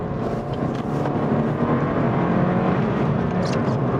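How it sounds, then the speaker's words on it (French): A Suzuki Swift Sport hatchback drives with its engine droning steadily from inside the cabin as the driver downshifts into second gear. The sound is a continuous mid-level hum with a slight rise in revs and no clear speech. "On rétrograde, on passe la deuxième."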